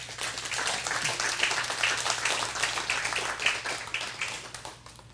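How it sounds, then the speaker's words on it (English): A church audience gives a round of applause for John and the Teen Challenge team, a lively burst of clapping from a modest crowd that fades out within a few seconds. "let's give a round of applause to John and the rest of the Teen Challenge team"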